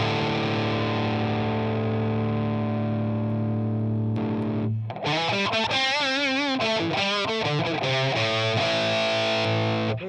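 An electric guitar runs through two MXR distortion pedals chained in a row, with heavy saturated sustained chords, then a burst of quick palm-muted riffing before ringing out again; no talking.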